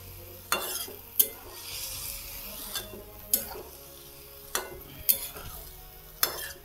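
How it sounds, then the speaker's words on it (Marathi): A village-style vegetable dish is stirred in a pan over low heat, with a soft, continuous sizzle broken by about seven spaced scrapes and clinks of the spoon against the pan. "बारीक गॅस करते असं सगळं मिक्स करून घ्यायचं."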